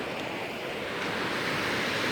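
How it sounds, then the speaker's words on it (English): Water rushing steadily through the concrete-block Nevada Mills Dam beneath a bridge, a broad continuous roar that is close and fairly loud, with no voices over it. "You can see the water coming through"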